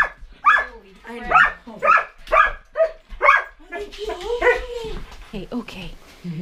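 A puppy barks, yips and whimpers in a quick series of close, loud calls, with people talking over and around it.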